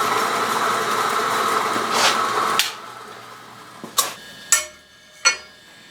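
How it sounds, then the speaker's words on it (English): A drill bores a lanyard hole through a steel knife blank, a steady whirring grind for about two and a half seconds that then cuts off, followed by a few sharp metallic clanks and taps. "now I just drilled out the lanyard hole"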